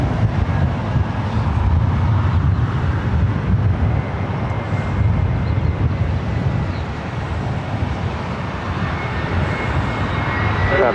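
A Delta Airlines A321 airliner arriving at LAX produces a steady, loud, broadband engine roar that persists throughout without clear breaks, mixed with some wind noise and no talking.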